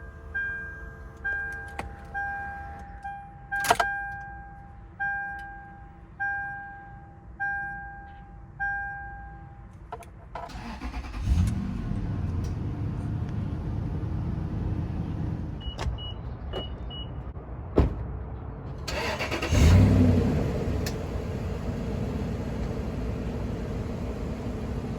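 A 2007 Lexus GX-470 starting up: a run of regular chimes and a whirring motor first, then the engine catches and settles into a steady idle, with a brief rev later on.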